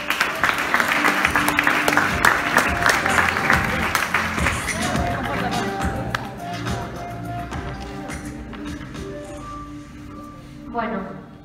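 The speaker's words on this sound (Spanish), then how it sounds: "Un fuerte aplauso" A TED talk audience claps together in a hall, steady applause over several seconds that slowly thins out, with a voice speaking over it.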